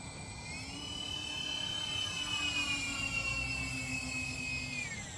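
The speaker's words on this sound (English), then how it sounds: "Those motors really sing once you give them full throttle" Twin 2S electric motors of a UMX C-130 RC model airplane at full throttle give a steady, high-pitched whine that rises slightly, then holds. A windy outdoor hiss sits underneath.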